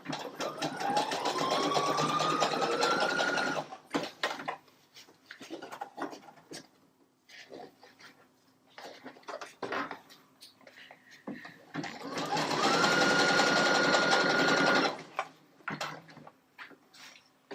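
A sewing machine fitted with a Teflon foot stitches fabric in two loud, whirring bursts, with quieter handling and rustling between them.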